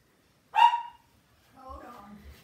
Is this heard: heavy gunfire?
no